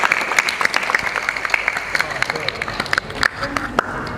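An audience of parents at a school performance by SMP 11 Kota Madiun applauds steadily, with thick, lively clapping and crowd murmur under it throughout.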